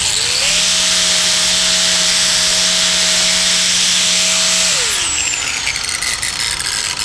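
A power sanding wheel smooths high spots on a fabricated cowl cover. It gives a loud, steady high whine with abrasive hiss, then spins down near the end.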